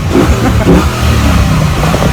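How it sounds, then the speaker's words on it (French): A Chevrolet Camaro engine fires up and revs loudly and close by in a short, continuous burst of deep engine roar. "Alors là on a une Chevrolet Camaro, superbe, là il la démarre"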